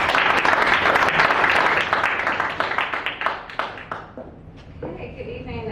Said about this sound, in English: So if we can have a short applause